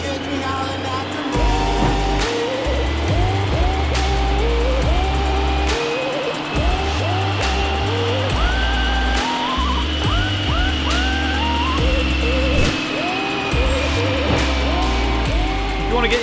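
Toyota Yaris GR engine running hard on a dyno, a loud sustained roar with rising and falling revs and repeated pitch sweeps as it climbs through the range, steady and close throughout.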